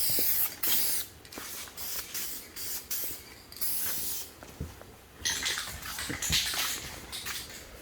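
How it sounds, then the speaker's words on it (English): A spray gun lays clear coat over a 1996 Cadillac Fleetwood lowrider paint job in a series of short, close hissing bursts separated by brief pauses. "We do just a quick shot of clear coat over it for masking purposes."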